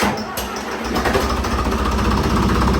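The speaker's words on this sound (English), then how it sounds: "Watch how fast this thing starts. Air-cooled diesel, 4-cylinder." An air-cooled four-cylinder Lamborghini diesel engine, likely a tractor, starts quickly and settles into a loud, steady, close clatter that runs throughout.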